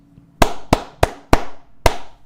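Five sharp hand claps in an uneven rhythm, loud and close, each with a short ringing decay and no voices, performed as a stand-in for the slap of clapping cheeks.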